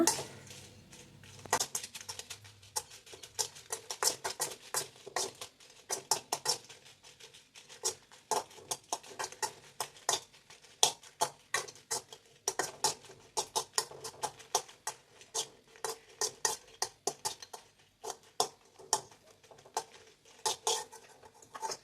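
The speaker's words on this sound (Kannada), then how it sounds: "ಐದರಿಂದ ಆರು ಒಣಮೆಣ್ಸಿನ್ಕಾಯಿನ ಒಂದು ಸ್ವಲ್ಪ ಎಣ್ಣೆ ಹಾಕ್ಬಿಟ್ಟು ಹುರ್ಕೊಳ್ತಿದ್ದೀನಿ" Five or six dried red chillies roast in a little oil in a pan, giving a steady stream of small crackles and pops, close and fairly quiet, with no one talking.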